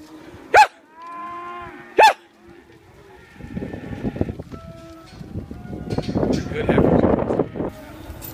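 Brangus heifers at a cattle sale give two loud, close moos near the start, then an auctioneer's voice and crowd noise carry on under them.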